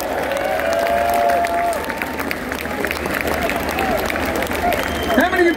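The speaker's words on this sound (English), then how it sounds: "Give yourself a big round of applause for coming out here," A concert crowd at a show during Knotfest Sydney applauds and cheers steadily, a loud, dense wash of clapping and whoops that fills the space, with scattered shouts standing out near the end.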